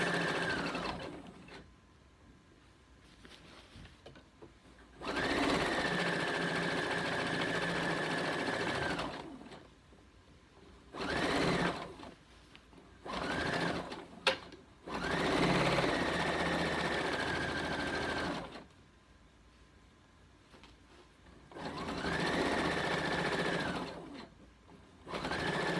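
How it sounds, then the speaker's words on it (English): A sewing machine stitching fabric along a pinned line runs in bursts of steady whirring, several runs of a few seconds each, broken by short quiet pauses and a brief back-stitch near the end. "All the way down, doing a little back stitching at the bottom."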